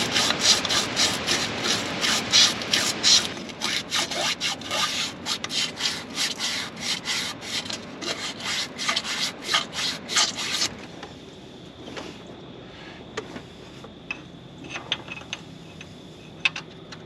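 A Ford Ranchero crankshaft bearing surface being sanded with 800 grit paper, a rapid rhythmic rasp of back-and-forth strokes that is loud at first, then turns softer and sparser with occasional light taps.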